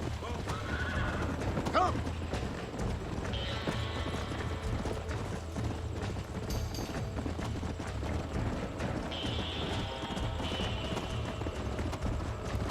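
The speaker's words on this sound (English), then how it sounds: "Hey, the stallion's getting away." In the Red Dead Redemption game, a stallion whinnies twice while steady hoofbeats clip-clop underneath, and a voice briefly calls out over the galloping.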